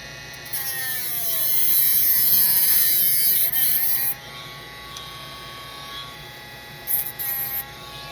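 A Dremel rotary tool cuts metal on a Warhammer 40K paper model tank chassis build, giving a loud, steady high-pitched grinding whine for about four seconds, then falling quiet before two short bursts near the end.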